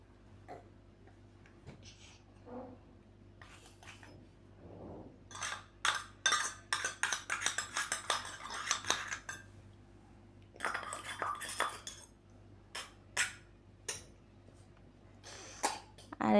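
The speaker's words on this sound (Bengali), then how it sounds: "ভাজা নেব চালগুলো।" Rice for khichuri, seasoned with turmeric and ginger, is stirred and fried in a pot, giving scattered clinks and scrapes of a utensil against metal in bursts, while a person talks at intervals.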